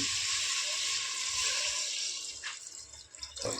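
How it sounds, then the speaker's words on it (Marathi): Water poured from a small vessel over chicken masala in a pressure cooker, a steady close splashing pour running without pause to the end, with a few brief wetter bursts near the finish. "आता वरून एक तांब्यावर पाणी टाकून घेऊया"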